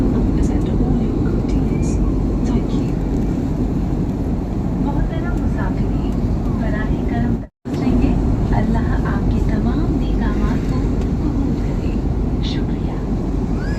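Steady, loud airliner cabin drone in flight on a pilgrimage flight, a continuous broadband roar with a brief cut midway, while someone speaks over it.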